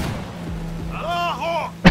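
Gunfire in the video game Cyberpunk 2077, a burst of booming shots with a sustained tonal hum and a sharp loud blast at the end, close and forceful.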